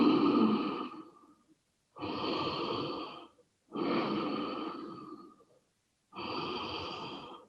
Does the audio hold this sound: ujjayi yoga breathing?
yes